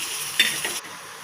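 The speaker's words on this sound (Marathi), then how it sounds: "कांदा, खोबरं चांगलं भाजून घेऊया तेलात लालसर होईपर्यंत।" Onion and coconut roasting in hot oil for chicken curry give a brief steady sizzle, with one sharp utensil clink and stirring scrape partway through.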